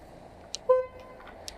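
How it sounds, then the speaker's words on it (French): A car horn from a driver behind gives one short, fairly close toot on a street after a fall from a two-wheeler, over low traffic noise. "le gars derrière klaxonne"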